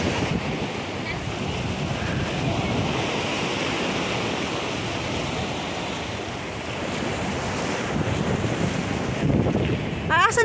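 Strong ocean waves roar and wash steadily with heavy wind buffeting the microphone, a continuous loud rush throughout.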